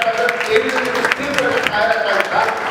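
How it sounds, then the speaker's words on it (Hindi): A crowd at an international astrology conference in Jodhpur applauds loudly and steadily for an honored guest, a thick wash of clapping with a voice carrying over it. "Doctor H.S. रावत साहब, ताली की गड़गड़ाहट"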